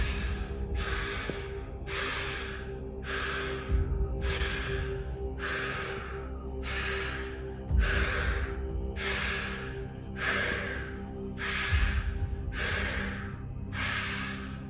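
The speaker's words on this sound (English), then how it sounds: "And now we're just going to go into the breathing cycle." Rhythmic breathwork during a seated meditation with eyes closed: a steady cycle of about a dozen forceful breaths, close and loud, each one a hissing rush at an even pace, with no talking.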